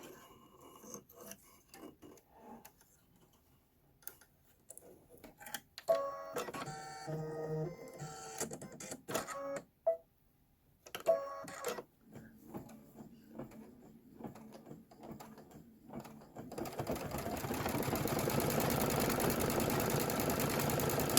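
An embroidery machine stitches a Kimberbell Main Street Celebration pickup truck design with rapid, rhythmic mechanical chattering that starts and stops in bursts, then settles into a steady, denser whirring hum near the end, close and without talking.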